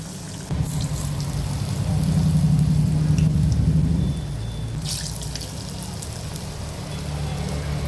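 Spinach bonda balls dropped into hot oil on a low flame, a broad bubbling hiss that swells louder for a couple of seconds then settles, with a few sharp clinks of a utensil near the pan.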